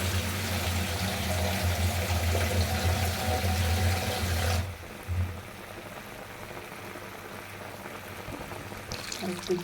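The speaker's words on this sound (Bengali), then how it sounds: "আর একটু ঝোল দেব।" More broth is poured into a simmering hilsa fish curry with taro, a steady loud liquid pour over the bubbling pot that cuts off abruptly midway, leaving a quieter simmer and faint kitchen noise.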